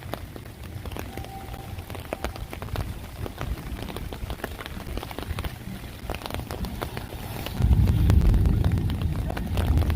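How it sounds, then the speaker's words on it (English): Heavy rain pours down at Animal Kingdom, Walt Disney World, a dense steady hiss of drops on surfaces with wind rumble, swelling louder and heavier near the end; no voices. "if you ever get caught in a real downpour, like what we just had"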